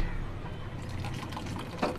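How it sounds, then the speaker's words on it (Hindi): Cornflour slurry is poured into a pot of chicken soup, giving a soft, continuous liquid trickle and stirring sounds over a low cooking hiss, with one brief splash near the end. "अब इसे थोड़ा थोड़ा करके डालूंगी,"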